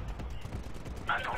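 Gunfire and combat rumble from the video game Titanfall, a brief burst of rapid shots and thuds with a brighter blast near the end, loud and close, with a voice faintly mixed in.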